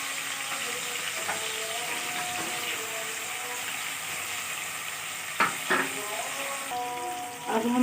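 Ingredients for chicken dal gosht frying in about two and a half spoons of hot oil, heard as a steady close sizzle with scraping stirs and a few sharper clatters toward the end.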